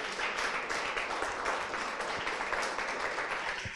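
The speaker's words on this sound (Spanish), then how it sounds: "Un aplauso, por favor." Audience applause at a data innovation talk on city challenges, a steady dense wash of many hands clapping throughout, moderately loud with a faint voice beneath.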